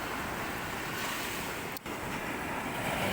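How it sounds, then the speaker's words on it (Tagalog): Ocean waves break and wash along a shallow beach shore, a steady near roar of surf mixed with wind buffeting the microphone, no voices. "Yung alon kasi guys, dito lang talaga sa Pangpang pumuputok."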